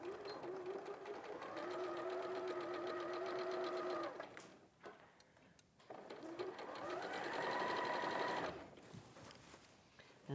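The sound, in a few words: sewing machine stitching a dress pattern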